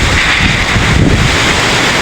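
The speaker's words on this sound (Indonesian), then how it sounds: "Angin kencang lur." Strong wind gusting hard across the microphone outdoors in Klaten, a loud continuous roar with buffeting and rustling and no let-up.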